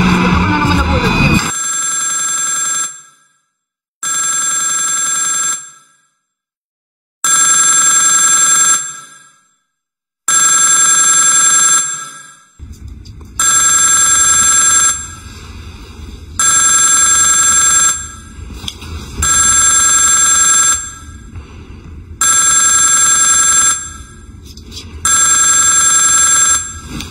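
A telephone rings over and over in steady repeated bursts, loud and close, until it is answered, with low background noise picking up under the later rings.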